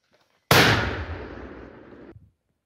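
A mortar fires a single loud, booming blast that rolls away in a long fading rumble, with near silence before and after.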